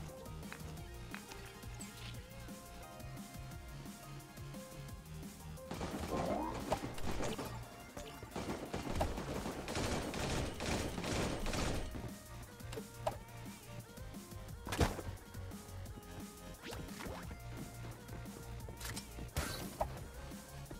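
Gunfire in the Creative Destruction video game, scattered sharp shots and crashing impacts over a low game background, with a denser burst of rapid fire in the middle and isolated loud cracks later.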